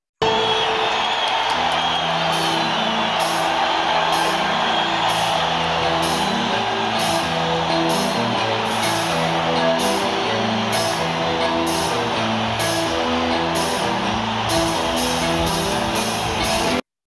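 A live concert crowd cheers and roars continuously before a song, a dense wash of voices under a steady pulsing low tone and regular rhythmic clicks, sustained and loud throughout.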